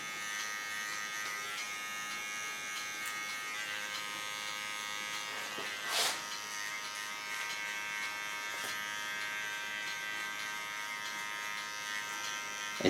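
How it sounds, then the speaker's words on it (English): A small electric hair clipper buzzes steadily and close for the whole stretch at a salon, a constant high motorized hum with a brief louder burst partway through. "Go to my small key on the clipper."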